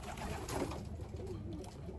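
Racing pigeons coo near a training box at a loft camp, a steady low murmur of soft overlapping calls over faint background noise, with no talking.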